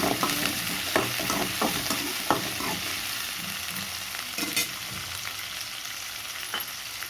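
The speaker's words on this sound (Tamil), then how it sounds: "நான் சின்ன வெங்காயம் தான் எடுத்துருக்கேன் நல்லா வதக்கி" Small onions sauté with cloves in a pan for a pea curry, with a continuous sizzle under irregular scraping and clinking stirs that are busier early on and steadier later.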